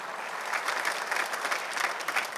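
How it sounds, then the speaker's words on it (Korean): Congregation clapping during a Korean church sermon, a dense, steady wash of many hands with a slight rhythmic pulse, moderately distant and without voices. "박수를 치며 하나님께 영광을 내시라"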